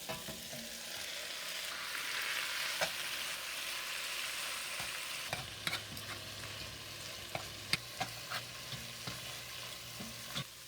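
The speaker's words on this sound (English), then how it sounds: "I'm just going to put a little bit of the fat back in the pot just to cook the lamb" Lamb crisping in its own rendered fat in a pot, a steady close sizzle and crackle with occasional sharp pops and a few stirring knocks, no talk.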